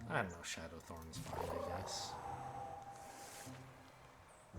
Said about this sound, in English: that was the cat going off